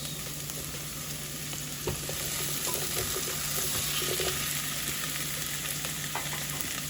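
Tomatoes go into a hot frying pan of seasoned rice with pepper, giving a steady close sizzle with scraping stir strokes throughout.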